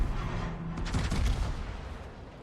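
Naval gunfire from a warship in World of Warships: a rumbling volley of heavy shell blasts peaking near the middle, loud and close over a steady low engine and sea drone, with no talking.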